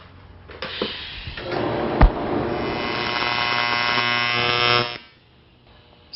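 TIG welding arc with the tungsten electrode stuck out too far under argon flow, a loud steady electric buzzing hum lasting about four seconds after a sharp click, then cutting off abruptly to quiet.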